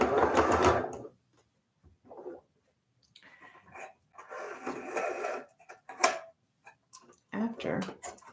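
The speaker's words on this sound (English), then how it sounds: "So I'm going to try sewing it from the middle and then work my way back." A sewing machine stitches a quilt block for a pinwheel sawtooth star, running in short bursts close to the microphone, with a person talking in between the runs.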